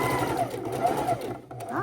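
A sewing machine stitches a seam on a fabric pillow, its motor whirring in a steady rising and falling hum with needle clatter, then pausing briefly before starting again, heard close while a person talks over it.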